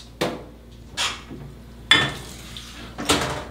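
Dishes and cutlery clatter in four sharp, separate bursts a second or so apart, close and fairly loud, during a catering scene.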